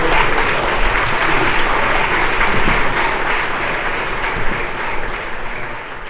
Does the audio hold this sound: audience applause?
yes